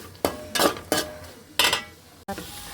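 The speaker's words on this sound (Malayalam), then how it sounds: "സവാള എടുത്തുകൊണ്ട് എന്നാൽ നീളത്തിലരിഞ്ഞ് ഉപ്പിട്ട് വരട്ടിക്കൊണ്ടിരിക്കുകയാണ്" Sliced onions cook with salt in a pan, the sound dominated by four or five sharp scraping strokes of a utensil against the pan, each followed by a short fade, with faint sizzling beneath.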